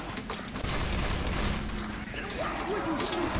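Gunfire from the Left 4 Dead 2 video game rattles in bursts under excited players' voices and game noise, a busy, mid-level barrage of shots.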